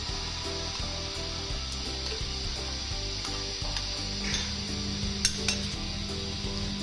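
Capsicum and dried red chili paste are stirred into a pav bhaji pan, with a steady sizzle of frying under soft clinks and scrapes of a spoon against the metal pan.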